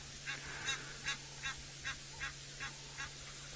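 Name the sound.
Egyptian goose squawking during a pond dispute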